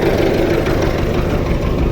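An MTZ-82.1 tractor engine idles close by, a loud, steady, continuous low rumble with no change in pace.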